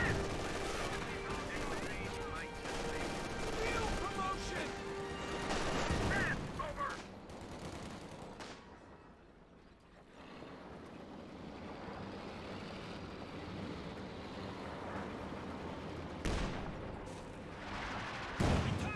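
In Company of Heroes 2, infantry and heavy weapons fire at German Grenadiers: dense bursts of gunfire and explosions, loud early, a brief lull, then renewed shots with a sharp blast at the end, under faint commentary.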